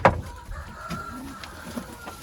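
A pigeon hen gives faint, drawn-out tonal calls after a sharp knock at the start, against a quiet, noisy background.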